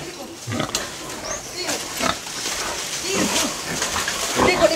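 Pigs loose on a farm in the Philippines grunt and squeal in scattered bursts close by, under background voices and general farmyard noise.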